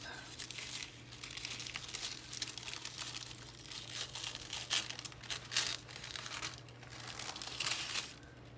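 Filofax Blush A5 planner packaging being opened, giving continuous soft crinkling and rustling of wrapping with a few sharper crackles, close and steady throughout with no talking.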